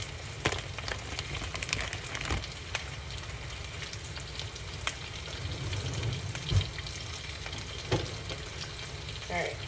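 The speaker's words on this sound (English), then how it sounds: "I'm gonna add the spinach, and I'm doing 2 big handfuls" Two big handfuls of spinach frying and wilting in a hot pan at home, a steady low sizzle with scattered crackles and stirring scrapes running throughout.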